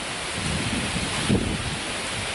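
Wind blusters and rain hisses outdoors in changeable weather, a steady broadband rush with a brief stronger gust midway, no voices present.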